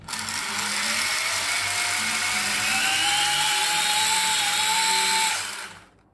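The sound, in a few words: drone front left propeller spinning freely, not touching gears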